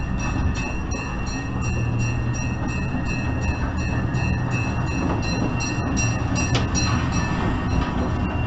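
A Jacksonville Zoo passenger train ride rolls steadily toward its station, with a constant close rumble and faint clattering of wheels and cars, no voices.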